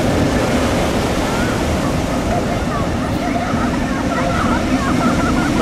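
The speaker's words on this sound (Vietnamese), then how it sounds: "Cái eo biển đầy sóng và gió." Rough sea waves and strong wind at the strait in Nha Trang during unusually heavy seas, a dense continuous roar of surf and gusts that stays loud throughout.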